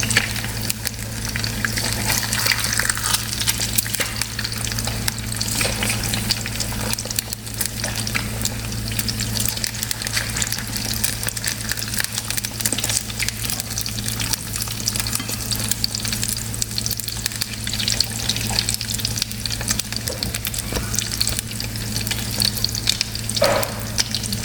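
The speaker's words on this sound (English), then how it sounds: "we're just frying some eggs and some turkey bacon for breakfast on this lovely Tuesday morning" Eggs and turkey bacon frying in a breakfast pan, a steady, close sizzle and crackle that runs unbroken throughout with no one talking.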